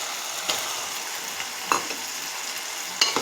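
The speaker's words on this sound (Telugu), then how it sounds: "ఇప్పుడు పచ్చిరొయ్యలు వేసుకుందాం." Raw prawns dropped into a pan of softened tomato and onion sizzle steadily, with a few sharp pops and a stirring scrape, close up and continuous, with no talking.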